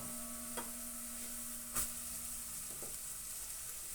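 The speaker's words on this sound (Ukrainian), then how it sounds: "І також ретельно перемішуємо" Diced carrots fry quietly in a pan for mushroom risotto, a faint, even sizzle broken by a few clinks and scrapes of a spoon stirring.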